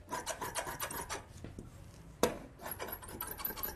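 Lining fabric for a pattu pavadai is cut with scissors, giving quick close rasping snips in a rapid rhythm that pause briefly, then resume, with no talk.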